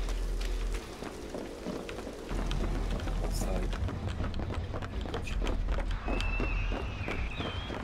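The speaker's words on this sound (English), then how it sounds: "I hear a lot of footsteps." Footsteps in the game Dead by Daylight patter quickly and steadily under a continuous low rumble of background game sound, with no speech over them.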